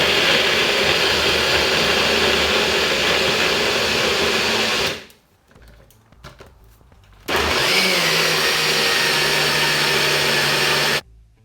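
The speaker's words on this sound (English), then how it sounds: "And then we're gonna get to blending again." A blender whirs loudly through carrots and water, stops for a couple of seconds of quiet handling noise, then starts again with a steady, close, high-pitched motor drone before cutting off.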